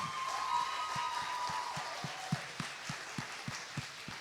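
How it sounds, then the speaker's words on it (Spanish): A crowd at a Father's Day church gathering applauding the fathers, moderate clapping and some cheering heard at a slight distance, with a tonal hum early on and rhythmic low thumps running underneath. "Mujeres, por favor, denmele un aplauso a los papás."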